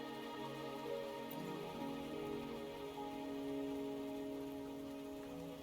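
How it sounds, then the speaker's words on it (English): Steady rain falls in the video game Wuthering Waves, a continuous soft patter layered over sustained tonal game music, with no talking. "Are you trapped here by the rain?"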